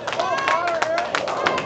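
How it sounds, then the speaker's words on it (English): Crowd at a bowling tournament cheering and clapping in a lively, continuous burst of whoops and applause, close and loud. "They are down here cheering."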